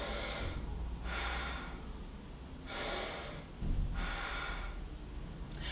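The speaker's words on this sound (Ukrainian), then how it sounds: "основною проблемою багатьох співаків є дихання плечима та грудною кліткою" A vocal teacher demonstrates shallow breathing using the shoulders and chest, with a series of loud, close, sharp inhales and exhales alternating in a regular rhythm.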